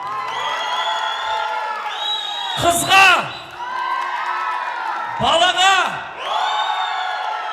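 Wedding guests cheer and clap in two loud bursts of applause and whoops, between stretches of an amplified voice talking over music at a Kazakh wedding celebration.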